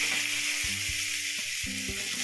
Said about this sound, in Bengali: 2টো শুকনো লঙ্কা ফোড়ন দিয়ে নিচ্ছি। একটু নেড়ে চেড়ে ভেজে নিচ্ছি।